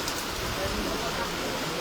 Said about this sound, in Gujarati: વરસાદ બહુ સારો વરસાદ છે અત્યારે